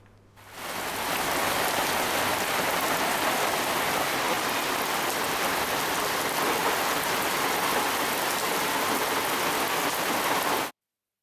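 Heavy rain pours down in Hyderabad, a dense, steady hiss of drops on surfaces that starts abruptly and holds at an even, loud level with no voices.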